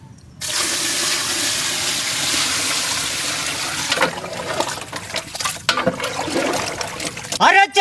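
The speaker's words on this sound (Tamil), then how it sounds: "வேக வைக்க பச்சை தண்ணி," Plain water pours into a pot of cut mutton shank bones for boiling a Rajasthani mutton dish, a steady close splashing stream for several seconds, then some clattering and handling noises.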